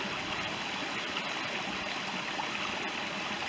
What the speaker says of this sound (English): Directing the water down under their garden.